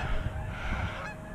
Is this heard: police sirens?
no